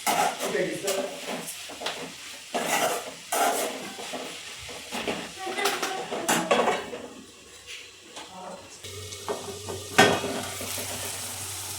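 Tempering for tomato rice sizzles in a pan, broken by repeated scrapes and clinks of a spoon against metal, while a person talks over the cooking.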